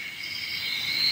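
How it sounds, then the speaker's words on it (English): A steady buzzing hum with a faint crackle, the sound of magic being cast in a fantasy swamp roleplay, holding at an even, moderate level throughout without any voices. "can you hear that buzz and crackling sound? That's the sound of someone using magic."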